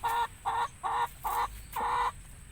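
Close chickens cluck while eating kitchen leftovers, in five short, evenly spaced bursts against faint background noise.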